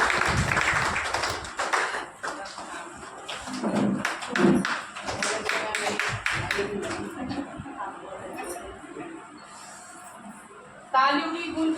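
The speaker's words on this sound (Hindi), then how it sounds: "तो जोरदार तालियों के साथ देते रहिए।" Scattered clapping and taps ripple through the crowd at a volunteers meeting in Delhi. The claps are loose and uneven, never a full ovation, and are mixed with someone speaking over them and some background chatter.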